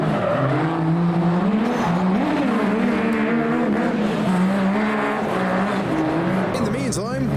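Small buggies sliding and drifting at a modified car show in Belgium, engines droning loudly and steadily throughout with brief tire squeals near the end, amid crowd noise and a nearby voice.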